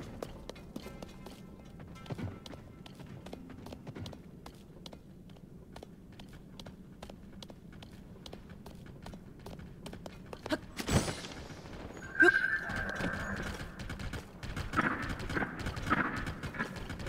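An undead horse in Zelda: Tears of the Kingdom gallops with a steady run of hoof clip-clops, followed by a louder whinny and snort near the end; close and moderately loud.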